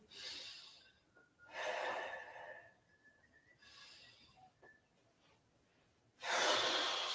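Deep breaths during a hamstring stretch in a live workout for lower back pain: four long airy breaths rise and fade at an even, slow pace, close and fairly quiet, with no talking.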